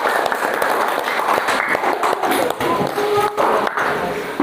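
Audience applause at a university teacher-training class presentation, a steady patter of many hands clapping at close range with faint shuffling and no one speaking.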